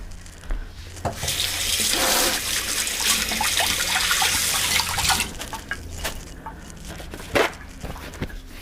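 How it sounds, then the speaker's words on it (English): Running tap water pours into a kitchen sink as hands are rinsed during home cooking of carne asada, a steady broadband splash with brief clatters and knocks, close and fairly loud, no talking. "Let me rinse my hands."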